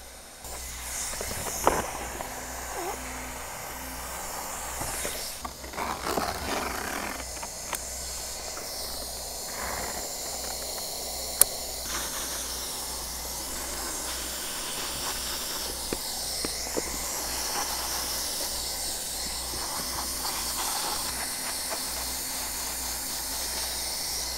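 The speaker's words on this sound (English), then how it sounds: "So we're just going to weld about 2/3 of the way up the side here and stop and move to the other side." A hot-air welder seals a pipe boot onto a pond liner, giving a steady, continuous hiss of blown air with occasional small knocks and clicks as the tool moves along the seam.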